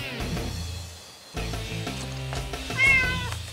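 A cat meows several times at moderate volume, with a rising, drawn-out cry near the end over faint background sound.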